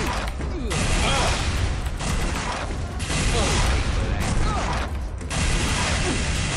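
Rocket launcher fire and blasts in the shooter game SiN: Wages of SiN, a dense, loud run of mechanical bursts and crackling impacts with brief gaps, continuous over the clip.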